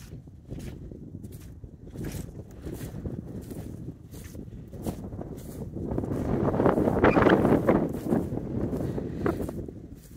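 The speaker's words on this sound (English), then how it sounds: "Bet you can hear the wind in the video." Wind buffets the microphone in rumbling gusts, swelling louder midway, with faint rustling and scuffing underneath.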